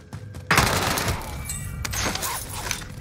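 Bursts of carbine gunfire in a Warzone Rebirth Island firefight, loud and close, with sharp cracks and clattering impacts starting after a brief quiet lead-in and continuing through to the end.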